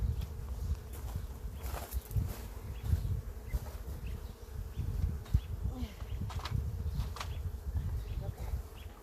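Honey bees buzz around an open hive while supers are being added, a steady close drone with bees passing near, plus occasional handling knocks and footsteps.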